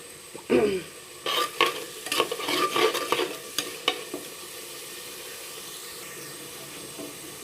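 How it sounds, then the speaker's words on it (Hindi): Masala is roasted and stirred in a pan for aloo palak, with bursts of scraping and clattering stirring over a soft frying sizzle that fades to a faint hiss. "हमारा मसाला भूना गया।"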